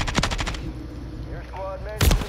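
Bursts of rapid automatic gunfire ring out in a Call of Duty match, a loud volley at the start and another at the end with a quieter stretch of game sounds between.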